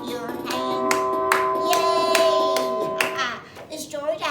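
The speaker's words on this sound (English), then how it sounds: "clap your hands." Sharp hand claps ring out at intervals during a children's story-time show, spaced beats sounding over a prominent singing or speaking voice.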